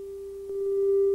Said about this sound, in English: We'll hear resonance at two points, as evidenced by an increase in the loudness of the sound at those resonance points.